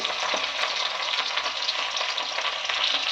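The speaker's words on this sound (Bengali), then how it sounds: "ফোড়নে দিয়ে দিলাম পেঁয়াজ" Chopped onions fry in hot tempering oil in a pan for a potato and jute-leaf dish, giving a loud, dense, steady sizzle close by with light stirring.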